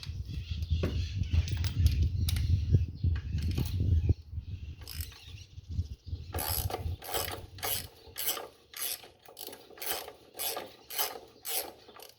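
Honda CG 125 Titan motorcycle engine with a worn clutch bearing, a rough mechanical rumble that gives way to a rhythmic clicking, rattling run of repeated metallic ticks, fairly close with no talking.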